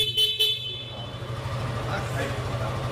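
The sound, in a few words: motorcycle horn honking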